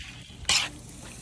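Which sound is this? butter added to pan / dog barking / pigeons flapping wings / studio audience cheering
butter added to pan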